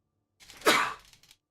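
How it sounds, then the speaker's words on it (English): A single short human sneeze, close and sudden, with a quick burst followed by a fading breathy tail and otherwise quiet surroundings. "I sneezed."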